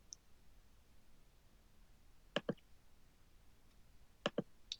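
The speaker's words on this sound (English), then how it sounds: "Just click to apply it." A computer mouse clicking during word-processor formatting, in two quick double clicks about two seconds apart, crisp and close against a quiet room, with no speech.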